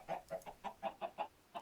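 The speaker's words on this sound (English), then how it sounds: "I get some chickens." Minecraft chickens cluck in a quick, even series of about eight short, moderately loud clucks, with no talk over them.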